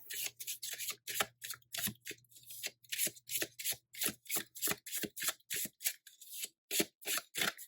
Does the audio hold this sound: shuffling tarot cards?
yes